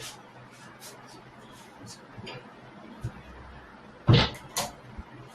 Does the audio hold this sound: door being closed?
yes